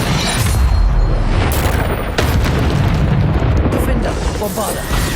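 Descendo and Depulso spells cast in combat in Hogwarts Legacy, loud booming magical blasts and bursts crashing in rapid succession, dense and continuous with sharp impacts layered over a heavy rumbling background.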